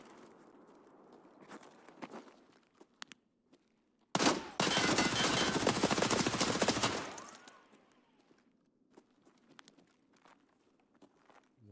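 Gunfire in the video game Escape from Tarkov comes as a sudden loud burst of rapid shots lasting about three seconds, with faint footsteps and small clicks before and after.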